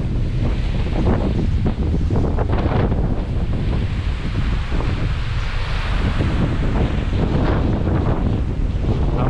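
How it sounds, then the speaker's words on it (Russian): Sea waves crash and surge along the rocky coast of Cape Menshikov near Sovetskaya Gavan, with strong wind buffeting the microphone in a loud, continuous roar throughout. "Вот это волны."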